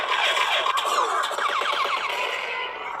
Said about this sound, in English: Then we got some blaster sounds.